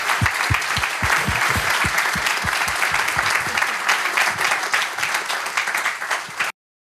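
A conference audience breaks into loud, sustained applause, many hands clapping together in a dense wash that carries on for several seconds before cutting off abruptly.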